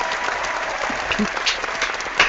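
An audience claps steadily for a guest panelist at a live panel chat event, sustained applause filling the room without a break.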